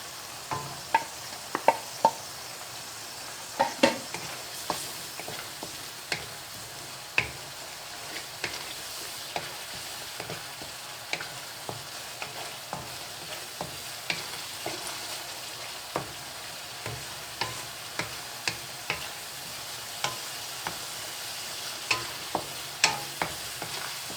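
Dry spices such as coriander, red chili, turmeric, ginger and garlic powder with a curry leaf roast in a pan, a soft continuous sizzle punctuated by regular scraping taps of a stirring spoon, alone and close.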